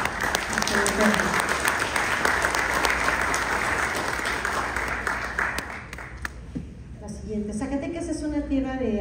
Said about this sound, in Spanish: un aplauso para ustedes y nuestro agradecimiento